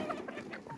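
Chickens on a poultry farm cluck in short, soft bursts at moderate distance, several quick calls in under a second with no talk.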